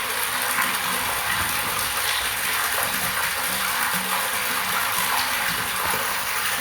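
Water rushes steadily into a well water tank controlled by a float switch, a constant loud gushing wash with faint mechanical ticking underneath, close and uninterrupted.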